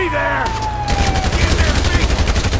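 Rapid bursts of automatic gunfire in a GTA 5 robbery shootout, loud and dense, repeating in quick volleys with no talk over them.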